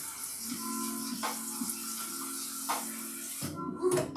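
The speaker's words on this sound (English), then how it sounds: "let's rinse the pasta right now with some cold water so it'll be sitting" Cold tap water streams over cooked pasta in a kitchen sink, a steady hissing splash with a faint tonal hum underneath, close and continuous until the flow cuts off near the end.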